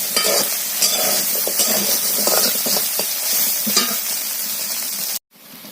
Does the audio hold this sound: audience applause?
no